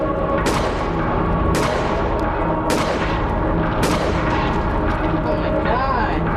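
Loud video game gunfire, four heavy booming shots spaced about a second apart over a constant rumbling din, with a faint voice under the noise.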